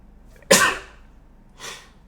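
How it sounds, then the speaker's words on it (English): A single sharp, loud sneeze bursts out close by, followed about a second later by a softer breathy exhale or sniff, with no talking. "I gotta make sure I ain't gotta sneeze again."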